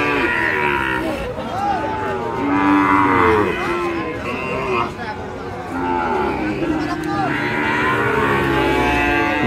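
Cattle, including bull calves, moo loudly and repeatedly at the Chhatra livestock haat in Naogaon district, long close bellows overlapping with crowd chatter and people talking nearby.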